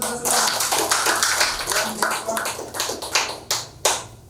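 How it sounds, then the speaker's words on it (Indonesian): A seated audience at a business opportunity presentation claps briefly, with scattered individual hand claps that thin out into a few separate, sharp claps near the end. "Tepuk tangan buat kita semua."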